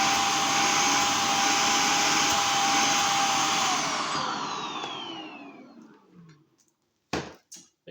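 A vacuum cleaner roars loudly with a steady high whine of suction, then is switched off and winds down over a couple of seconds into quiet, followed by a few brief handling knocks.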